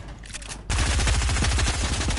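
Rapid automatic gunfire from an online arena shooter bursts in abruptly after a brief quieter stretch, then keeps up as a dense, loud, steady stream of shots with no talk.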